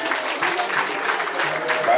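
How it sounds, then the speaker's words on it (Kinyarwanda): Wedding guests clap together in a steady burst of applause, with a voice speaking over the clapping. "ubakomera amashyi menshi cyane"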